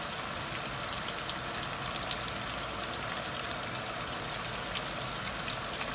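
Small Bangamary fish frying in hot oil in a pan, a steady, dense sizzle and crackle that fills the short stretch without pause, no voices over it.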